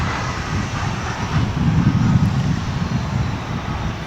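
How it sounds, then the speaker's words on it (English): Boeing 767-200 dating from 1987 at DFW International Airport, its engines a steady broadband roar that swells slightly toward the middle of the pass, loud and continuous with no voices. "That was a 35-year-old aircraft dating back to 1987, 767-200."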